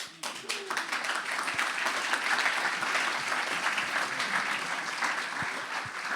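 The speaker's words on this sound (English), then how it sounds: "they all deserve like a big applause" An audience at an architecture lecture breaks into applause, a few sharp claps first and then a full, steady ovation that carries on evenly at moderate loudness.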